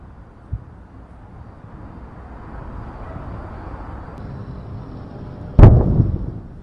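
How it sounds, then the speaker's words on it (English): Explosions during a bombardment of Gaza: a faint distant thud, a low rumbling build, then one loud sharp blast with a lingering boom, heard without talk. "flares and explosions lit up the Gaza sky on Monday yet again as Israeli forces continue their"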